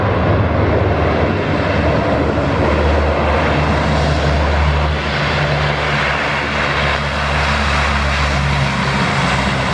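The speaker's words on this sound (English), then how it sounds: "we can flip all those propellers into reverse thrust" A loud, steady roar of a propeller aircraft engine landing with propellers in reverse thrust, close by and continuous, with a low droning hum underneath.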